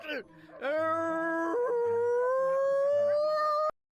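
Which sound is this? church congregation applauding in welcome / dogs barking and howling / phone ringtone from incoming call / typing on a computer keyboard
dogs barking and howling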